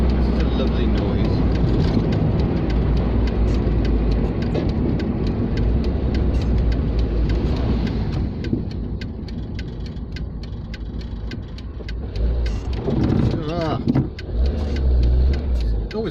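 Dacia car engine droning loudly from inside the cabin while driving through a turn, a steady roar that eases and then swells again toward the end.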